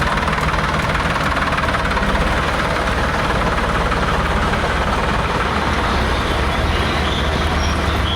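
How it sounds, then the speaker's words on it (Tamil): A tractor carries an electricity board worker through floodwater to a flooded village during a cyclone in Tamil Nadu, its engine a steady loud rumbling drone with no voices over it. "வெள்ளம் சூழ்ந்த கிராமத்திற்கு மின் அளவீடு பணிக்காக மின்வாரிய ஊழியர் டிராக்டர் மூலம் அழைத்து செல்லப்பட்ட காட்சிதான் இவை"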